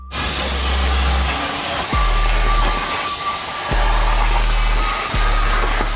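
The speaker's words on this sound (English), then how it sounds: "cutting up on our plasma table" A plasma table cutting 1/8-inch steel plate gives a loud, steady roaring hiss that stops and restarts a few times, with a low hum running beneath and no talking.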